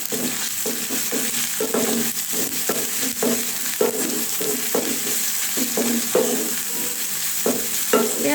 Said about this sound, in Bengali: পেঁয়াজগুলোকে ভাজা ভাজা করে নিচ্ছি